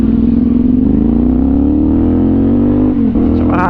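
A CFMOTO 450NK motorcycle fitted with an Orion aftermarket exhaust idles close by with a loud, deep, steady rumble that runs unbroken and dips slightly near the end.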